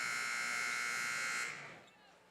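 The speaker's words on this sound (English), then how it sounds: "Now they keep buzzing the buzzer for some reason" Electronic buzzer at a boys' high school basketball game between Huron and Sioux Falls Christian, sounding as a loud steady harsh tone that holds for about a second and a half and then cuts off, leaving quieter gym noise.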